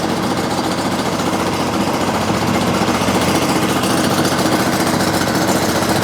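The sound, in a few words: DiamaPro Systems ROG-60 grinding machine running at idle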